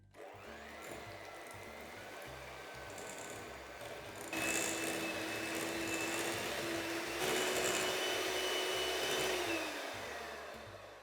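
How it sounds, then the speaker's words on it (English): Electric mixer beating soft butter for buttercream, a steady whirring motor hum that rises in pitch and volume partway through and holds, close and continuous without talk. "In here I've got 250 grams of soft butter and I'm going to mix it for about 5 to 6 minutes."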